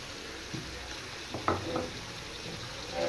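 Chicken sautéing in a pan with cumin, coriander, chili and turmeric powders, a quiet steady sizzle under occasional clinks and scraping of a spatula.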